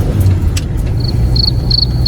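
A 1961 Ford car engine rumbles steadily while driving, loud and close, with a few faint high chirps over it.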